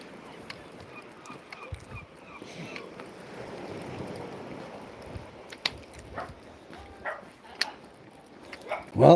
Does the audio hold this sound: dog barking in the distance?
yes